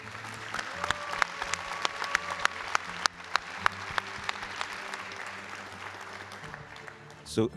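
Scattered audience applause in a congress centre auditorium during the Gourmand Awards ceremony in Cascais, with sharp individual claps standing out over a murmuring crowd and speech.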